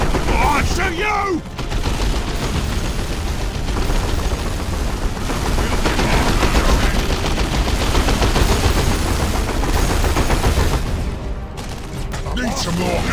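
Dense gunfire rattles through a battle in the video game Dawn of War 2, loud continuous bursts and shots layered with explosions and mechanical clatter, while voices shout over the din.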